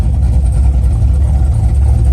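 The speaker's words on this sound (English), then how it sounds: "Idles perfectly" A 500hp WS6 car engine idles steadily with a deep, loud, even low rumble that holds without revving for the whole stretch.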